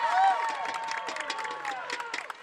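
A softball playoff crowd in the stands cheers and claps for the Lewisburg Patriots after a leadoff double. The cheering is moderately loud, with a shrill whistle-like voice near the start and scattered claps throughout.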